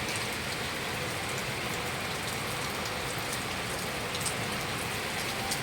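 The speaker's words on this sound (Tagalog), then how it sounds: "Pangalawang araw na po ngayon guys nga umulan." Steady rain falls continuously, a dense hiss of drops pattering on surfaces, even and unbroken throughout.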